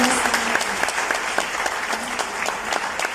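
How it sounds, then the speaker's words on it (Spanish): A church congregation claps loudly and steadily, dense applause filling the room with a few individual claps standing out, while a voice speaks briefly over it. "Denle unas fuertes palmas al Señor"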